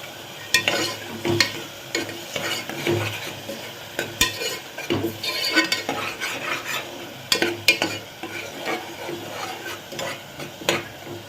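Ingredients for chicken soup sautéed in a pan, with repeated close scraping and stirring strokes over a light sizzle, rhythmic and uneven with occasional utensil clinks.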